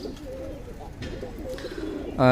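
Pigeons cooing in a loft set up for egg-laying: soft, low, rolling coos that repeat under a steady background, with a sharper, louder burst right at the end.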